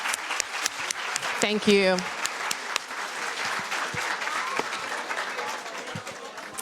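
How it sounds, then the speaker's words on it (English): An audience applauds a panel at a housing justice event, dense clapping running throughout at steady volume, with a brief spoken thanks near the start. "Let's give them a round of applause."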